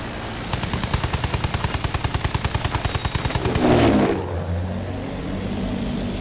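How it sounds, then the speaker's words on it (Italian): Rapid machine-gun fire rattles close by in the video game Battlefield 1, then a loud roaring whoosh swells and passes as an enemy airplane flies low overhead, leaving a rumbling engine drone behind. "Ragazzi, aereo nemico!"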